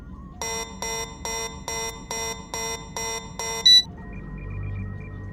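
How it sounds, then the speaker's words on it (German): Alarm blaring from a hangar aboard a ship in a Lego Star Wars stop-motion scene: eight evenly spaced electronic beeps pulse in a steady rhythm, then a brief louder blip and a low rumbling hum take over. "Der Alarm kommt aus dem Hangar"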